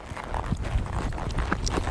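Hooves clip-clop in a quick, steady rhythm as a horse works through a funnel barrel pattern in an arena, close and fairly loud with no talking.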